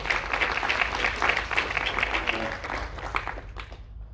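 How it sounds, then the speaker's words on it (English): Audience applause at a social robotics conference, steady clapping from a mid-sized crowd at moderate distance that tapers off toward the end. "So let us clap for them."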